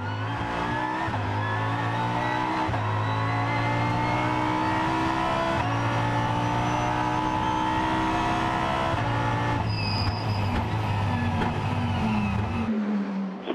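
WRT's Audi R8 LMS race car at the Spa 24 Hours, its engine droning loud and steady at high revs with gear changes and a brief tyre squeal near the end, no voices.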